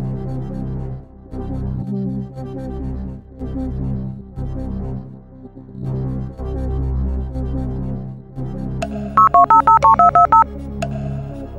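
Telephone dialing in the 2006 Who Wants To Be A Millionaire pub quiz video game: a rapid burst of touch-tone beeps rings out over looping tense background music, loud and clear near the end.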